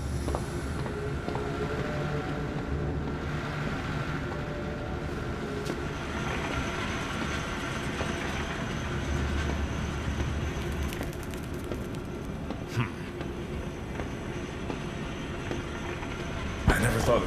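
A gadget trolley from the horror game Zoochosis rolls along rails inside a zoo facility, a steady low rumble with rattling, running as a continuous mechanical drone with a few clicks and clanks near the end.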